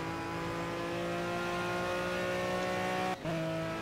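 Sustained GT3 race car engine from a racing video game at Monza, droning steadily at high revs with a brief dip near the end like a gear change, close and continuous with no talk.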